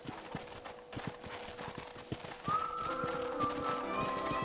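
Steady clip-clop of horse hooves trotting at an even rhythm in the video game Red Dead Redemption, with a faint whinny rising toward the end over soft ambient noise.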